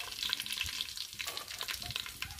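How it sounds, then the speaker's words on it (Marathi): Three big spoons of Kolhapuri red chili powder hit hot oil in a pan, giving a close, continuous crackling sizzle with bright spitting pops throughout, no voices. "तेल तापलेलं आहे, त्यामध्ये आपण 3 मोठे चमचे कोल्हापुरी लाल तिखट टाकून घ्यायचं आहे"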